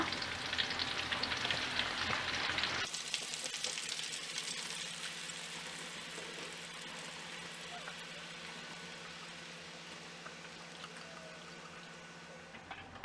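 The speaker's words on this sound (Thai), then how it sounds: "ส่วนที่เหลือเราจะนำมาเจียวหอมแดงกับกระเทียมค่ะ" Shallots and garlic fry in pork lard over medium-low heat for a Thai chili paste with crispy pork rind, giving a loud, dense sizzle at first that settles into a steady, close bubbling crackle.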